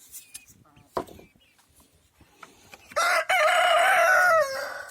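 A rooster at a chicken coop with hens and young chicks lets out one loud, drawn-out crow near the end, after scattered soft clucks and faint rustling.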